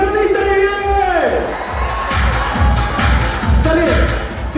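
Students packed into an IIT Mumbai lecture hall cheer and shout loudly, with a continuous roar of crowd voices and a run of rhythmic chanting bursts toward the end.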